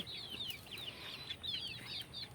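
Soft, quiet clucks from native desi chickens eating chhena repeat in short bursts over a low background hum.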